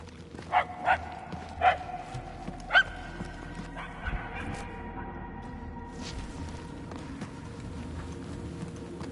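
Dog barking in the Guardians of the Galaxy video game, a few fainter barks early on that fade out, leaving a low quiet ambience.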